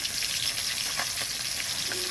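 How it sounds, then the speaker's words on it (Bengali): Potatoes for a meat curry frying in hot oil on a home stove, a steady close sizzle with faint crackles running without pause. "এই মাংসের আলুগুলো লাল লাল করে ভেজে নেব।"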